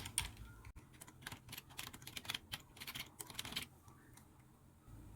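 Rapid keystrokes on a computer keyboard as a slide title is entered in PowerPoint, a quick irregular burst of close clicks lasting a few seconds, then trailing into quiet.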